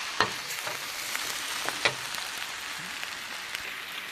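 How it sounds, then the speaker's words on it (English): A pan of house special fried rice with egg folded in sizzles and frys steadily, with soft spatula scrapes and a couple of small clicks over a constant hiss. "What you want to do is give that a good stir"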